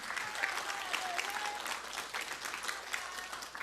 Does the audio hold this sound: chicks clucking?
no